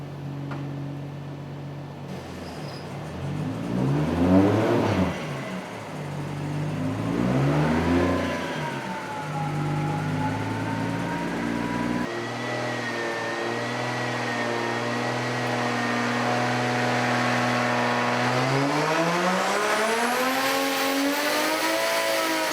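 A 2JZ-swapped Toyota 4Runner engine revs hard on a dyno pull, climbing in a long, loud, rising howl that steps through gears and keeps building toward a high, strained pitch, with no talking.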